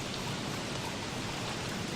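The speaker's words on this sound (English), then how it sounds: "It is raining frogs in the night." Steady hiss of rain falling at night in the Don't Starve video game, a dense, even wash of droplets with no other sounds on top.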